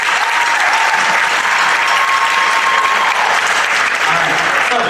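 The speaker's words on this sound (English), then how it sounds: "So give them a round of applause." Steady, dense applause fills an auditorium after a school music department band performance, a large crowd clapping continuously at close range.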